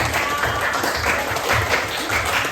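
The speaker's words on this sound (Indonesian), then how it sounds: "Tepuk tangan dulu Pak anak-anak Ibu Rizky." Children in a classroom clap together for a teacher, a dense, continuous patter of small hands filling the room at a fairly loud level, with a faint voice beneath.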